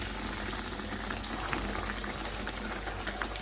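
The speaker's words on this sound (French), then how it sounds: "j'ai chauffé l'huile" Toasts frying in hot oil give a steady, dense bubbling hiss with a constant fizz of tiny crackles and no pauses.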